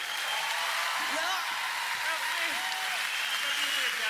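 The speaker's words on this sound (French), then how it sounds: "Applaudissez-le, Patrick Gros." Comedy show audience applauding a performer, a steady wash of distant clapping held at an even level throughout, with a few faint voices rising above it.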